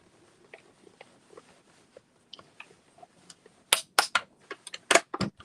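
A die cutting machine grinds with quiet ticks and clicks, then loud crunching bursts as paper is pressed through, several sharp crackles near the end.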